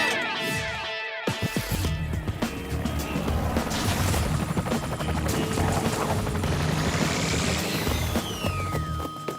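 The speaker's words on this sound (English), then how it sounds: "I'll send the chopper." A helicopter flies in a cartoon spy adventure, its steady rotor thrum and engine whine running continuously for about nine seconds, mixed with dense music and effects.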